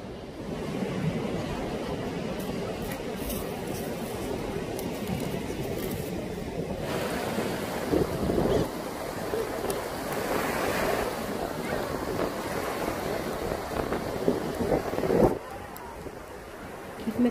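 Rough sea waves roll in at Myrtle Beach, a sustained close wash of surf with wind buffeting the microphone, swelling and receding over several seconds with brief louder crashes.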